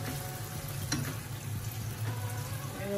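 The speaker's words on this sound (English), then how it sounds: "I will just let it simmer for maybe 2-3 minutes." Tuna and tomato simmer in a pan for a tuna pasta, giving a steady, moderately loud bubbling sizzle with a few soft stirring clinks over the three seconds.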